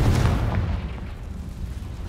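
Confringo fire spell from Hogwarts Legacy going off, a deep booming blast up close that fades into a rumbling tail.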